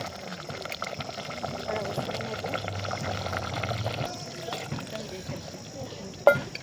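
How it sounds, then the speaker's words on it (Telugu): Water is poured into a pot of chicken curry, producing a soft, continuous liquid bubbling and trickling at low level, with a sharp knock toward the end. "కొన్ని నీళ్ళు పోసినావు కదా."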